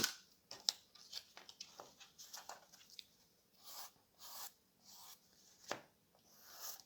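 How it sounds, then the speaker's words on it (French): A nail file rasps along a cardboard edge in short, soft scraping strokes, a handful of separate rubbing bursts with small ticks between them, close and quiet with no talking. "je prends des limes. Les limes, vous savez, pour les ongles. Donc je prends ma lime"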